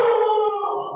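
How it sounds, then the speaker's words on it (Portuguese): Several dogs howl together in a long, tonal, wavering chorus, fairly loud and sustained, slowly fading toward the end with no voices over it. "Repara que são meus cachorros conversando ao fundo."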